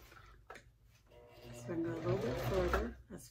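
A sewing machine stitching a fabric bag across a thick seam, starting with a couple of soft clicks, then a rising run of motor whir and needle chatter as it pushes over the hump, heard under a person talking.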